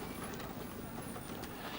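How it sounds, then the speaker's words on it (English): Large dray horse hooves clip-clop in a steady rhythm on a hard surface, the sound held under a constant loud background hiss and rumble throughout. "lucky people in those areas will hear that old familiar clop, clop of the large hooves"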